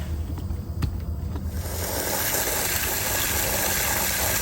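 Cold well water starts running, a few small knocks and taps giving way after about a second and a half to a loud, steady gushing rush that holds to the end, with no voices.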